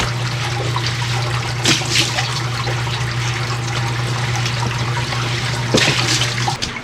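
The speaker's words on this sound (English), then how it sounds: "Water coming in across there." Floodwater flowing in across the ground during days of flooding, a steady rushing, trickling wash that runs continuously and close throughout, with a low steady hum beneath and a couple of brief louder splashes.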